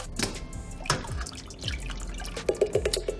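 Evaporated milk glugs and drips from a can into a pot while preparing a tailgate chicken dish, with soft splashes and a run of quick trickling drips near the end, close and fairly quiet.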